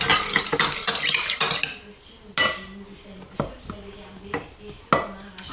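Galette batter ingredients get mixed in a bowl, first with a busy run of clinking and scraping, then slower, separate knocks of the utensil against the bowl's side, each clear and close.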